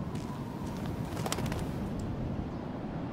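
Soft cooing of birds in the game Life is Strange, a steady outdoor murmur with a few faint coos rising over a constant ambient hiss.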